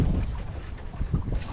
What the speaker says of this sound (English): Big gust of wind just helped us out get round it.